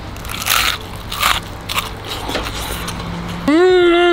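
Crunchy battered fish and chips bitten into up close, a couple of loud crackling crunches followed by chewing, ending in a voiced hum of enjoyment.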